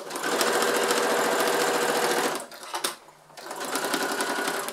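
Sewing machine stitching a double-sided zippered pouch, a loud close whir that runs continuously, briefly stops for a needle-down pivot with a few clicks, then resumes.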